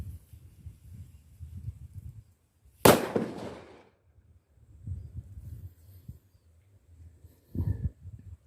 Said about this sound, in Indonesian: Ini petasan robot gila teman-teman